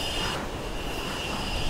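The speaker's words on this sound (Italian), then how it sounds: "Hai un treno alle spalle, togliti di mezzo." A train rushes past in the Mirror's Edge video game with a loud, continuous rumbling roar and a sustained high metallic wheel squeal.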